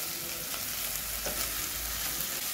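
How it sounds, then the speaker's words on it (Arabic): Lamb tripe stir-fries with garlic and peppers in a pan, giving a continuous loud sizzle with occasional stirring clatter and no voices. "هقلب الكرشه مع الثوم مع الفلفل كده يا حبايبي، ونديها تشويحه حلوه كده"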